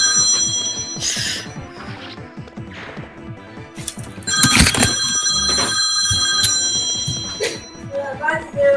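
A telephone rings in repeated bursts during a Fire Emblem Shadow Dragon game, with voices talking over it and sharp game clatter in the middle.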